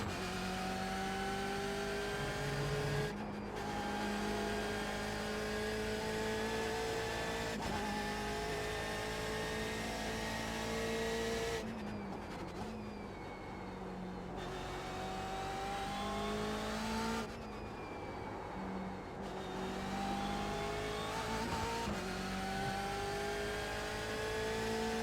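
A BMW M8 GTE race car laps the Nurburgring with a loud, continuous engine roar heard from inside. The pitch climbs and drops through gear changes, with brief dips on downshifts.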